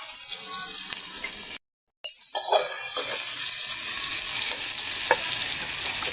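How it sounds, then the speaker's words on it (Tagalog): Spices and onions sizzle in oil in a pan while being stirred for pork sinigang, a loud, steady hiss with occasional scraping, close up, broken by a short silent gap early on. "Saka nato gisahon ang lamas."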